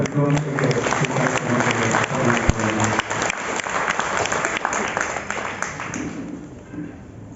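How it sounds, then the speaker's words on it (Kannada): An audience at a Kannada discussion gathering breaks into sustained applause, loud and dense at first and then gradually thinning and fading toward the end, with a voice speaking over the clapping. "ಎಲ್ಲರೂ ಚಪ್ಪಾಳೆಗಳನ್ನು ತಟ್ಟುತ್ತಾ"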